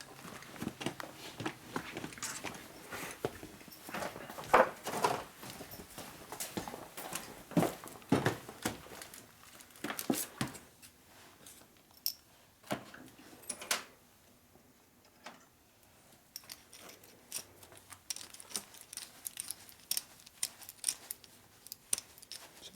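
Rough metallic scraping and ticking in uneven bursts as a threading die is cut along a bolt during a Harley FXR cylinder head rebuild, with clinks and handling noise throughout.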